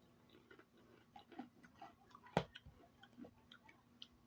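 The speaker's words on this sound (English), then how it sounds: "sorry about the crunching sound." Someone eating something crunchy: a quiet run of soft chewing clicks and crunches, with one sharper, louder bite partway through and no talk.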